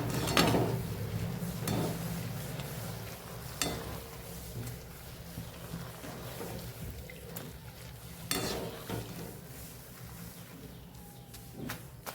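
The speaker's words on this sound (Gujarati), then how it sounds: "આપણે જે ચોળાશ ટુકડા કરેલા એ પણ આપણે તળી લેવાના છે સેમ એ જ રીતે આપણે તળી લેશું" Chorafali strips, a Gujarati fried snack, crackle as they deep-fry in hot oil, a steady broadband sizzle running throughout with a few sharp clinks of utensils against the pan.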